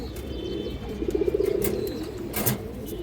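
Male pigeons coo softly in a loft, a short burst of rhythmic cooing with faint chirps and wing rustles in the background.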